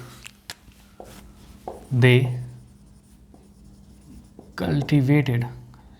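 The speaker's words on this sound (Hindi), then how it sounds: "तो लिख लेते हैं, दे कल्टीवेटेड" Pen writing notes in a history lecture, a faint steady scratching across the clip, with someone talking over it in two bursts.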